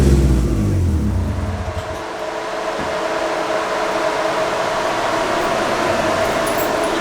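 A car engine roars close by, revving hard for the first couple of seconds, then easing into a steady, loud driving drone with no voices.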